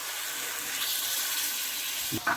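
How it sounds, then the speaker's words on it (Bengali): Hot water is poured into chicken curry frying in a pan with green chillies. A steady close sizzling hiss runs throughout, with a brief splashing surge near the end as the water hits the hot pan. "জলটা আমার গরম করা ছিল, এই জলটা ঢেলে দিই।"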